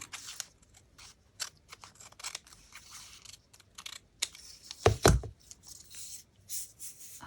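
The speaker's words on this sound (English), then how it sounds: "I might as well use the scissors on this one." Scattered soft snips and crisp paper rustles as scissors cut a shopping receipt, close by, with a louder burst of cutting near the middle and quiet handling noise between.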